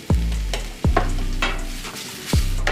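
Beans, onions, peppers and mushrooms fry in a pan over a constant close sizzle, with three or four sharp stirring scrapes at uneven intervals and no talking.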